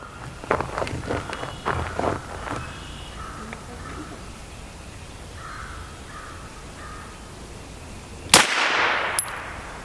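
A single sharp 9mm gunshot fires a Scott Munitions 80 grain solid copper round outdoors, one loud crack late in a stretch of quiet ambience, preceded by crow caws and light movement.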